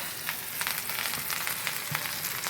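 Shami kebabs frying in hot oil, a steady close sizzle with faint crackles and soft spatters running throughout, no voices.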